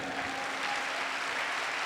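Enthusiastic congregation applause fills a church pastors' seminar in Guadalupe, Mexico: dense, steady clapping from many hands, loud and sustained throughout with no voices over it.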